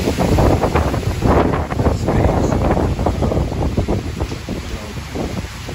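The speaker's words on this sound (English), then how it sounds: "This is Typhoon Egay and July of 2023." Typhoon Egay's wind in July 2023 batters the microphone outdoors among coconut palms, a loud, roaring, gusting rush that swells and eases without pause.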